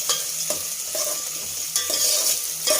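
Chicken frying in a pan for chicken fry biryani sizzles steadily, with a spatula scraping through it in brisk stirring strokes about every half second.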